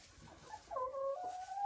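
Araucana hens in their outdoor run beside a sun-warmed coop give a few short, quiet tonal clucks and drawn-out calls in the second half, over soft background noise.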